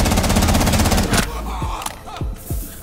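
A Rainbow Six Siege firefight: a rapid machine-gun burst of evenly spaced shots rattles for about a second, followed by three or four separate heavy single shots, loud and close.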